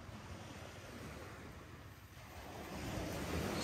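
Sea waves wash onto a sandy beach in a steady, close rush of surf, with wind noise on the microphone and the wash swelling louder toward the end.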